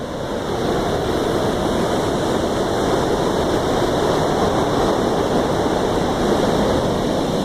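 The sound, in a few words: water pouring over canal feeder weir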